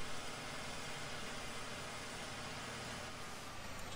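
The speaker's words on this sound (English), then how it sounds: "That turbo is super loud." A tractor engine with a loud turbo in Farming Simulator, a steady mechanical drone and whine held at an even level without talking, with a slight change near the end.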